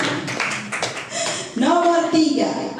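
A classroom group claps briefly to reward a correct answer in a quiz. A short burst of scattered clapping follows talk, with voices continuing over and around it.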